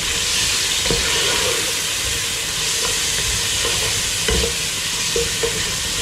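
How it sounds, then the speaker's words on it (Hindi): Chicken pieces frying lightly with plain salt, Chinese salt and black pepper for fried rice make a loud, dense, continuous sizzle, with a few faint stirring knocks rising above the hiss. "फ्राई करेंगे हल्का सा चिकन को।"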